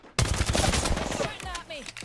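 Close, loud automatic gunfire in a video game: a rapid burst of shots bursts in suddenly and rattles on for about a second before trailing off into fainter sounds.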